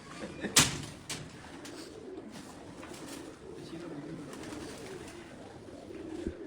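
Soft cooing of fancy pigeons repeats low in the background, with a sharp knock near the start and a steady ambient hum throughout.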